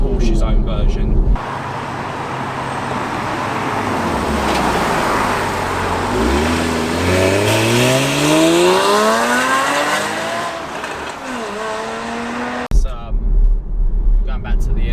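A Porsche Cayman's naturally aspirated flat-six with VarioCam revs hard and loud on its own, pitch climbing steadily through the gears in a long rising sweep that tops out and falls away, with louder broadband bursts at the start and end.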